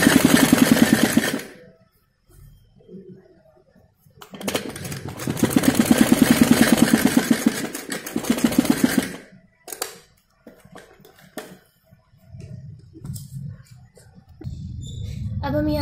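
A sewing machine running a straight basting stitch along a kurti neckline, with long steady bursts of close, loud mechanical whirring separated by pauses in which someone speaks.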